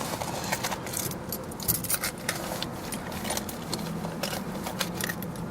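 A bunch of Dodge Charger keys jangles and clinks in several quick bursts against a low background rumble.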